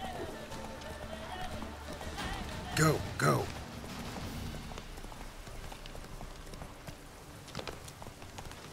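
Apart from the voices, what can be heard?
horse galloping in the video game The Witcher 3: Wild Hunt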